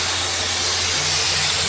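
A kitchen pressure cooker boiling potatoes lets off its whistle, a loud, continuous hiss of escaping steam that holds steady throughout, with no talking.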